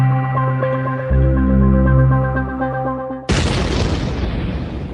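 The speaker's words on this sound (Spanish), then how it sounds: "Todo comenzó con un fuerte ruido, como una explosión" A sudden loud explosion-like boom cuts in after a sustained low tone, then rolls on as a broad, noisy roar that fades slowly.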